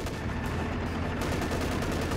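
Dense, continuous gunfire and machine gun bursts from a Company of Heroes 2 battle between US and OKW forces, loud rattling volleys with no pause across the whole stretch.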